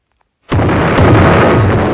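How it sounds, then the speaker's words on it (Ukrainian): Bomb blast at a bank vault in the Roblox game Brookhaven: a sudden loud, broad explosion bursts in after a half-second of silence and roars on steadily to the end. "Беремо тепер в інвентарі таку бомбу, кладемо її сюди і натискаємо на зелену кнопочку"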